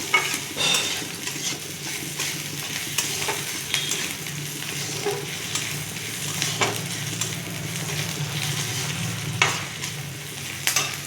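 Chopped onion and garlic fry in a pan for masoor dal with pumpkin greens, giving a continuous close sizzle broken by periodic scraping stirs and light utensil clinks.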